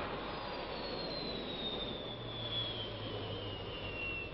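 A Mirage III jet aircraft in flight, diving away, with a steady loud roar of the jet engine and rushing air and a slowly falling whine throughout.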